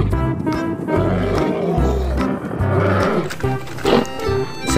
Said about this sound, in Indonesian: Ini ada singa.